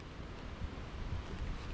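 Strong wind on a mountain trail near Careys Peak in the Barrington Tops, a continuous low rumbling roar buffeting the microphone with gusty swells, steady and fairly faint overall.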